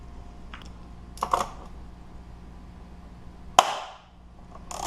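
A stuck engine mount bolt on a Ford Focus breaks loose by hand with a single sharp crack, preceded by a few smaller clicks and ratchet-like taps, fairly close in a quiet garage.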